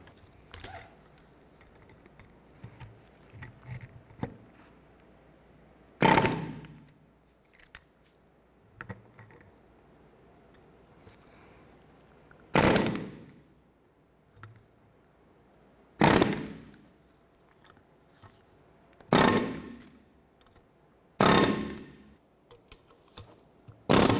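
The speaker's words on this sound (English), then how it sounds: "We're going to use our air chisel and work this free" Air chisel driving out a front lower control arm bushing on a 2008-2012 Honda Accord, firing in about six loud, harsh bursts of a second or so each, separated by quieter shop noise.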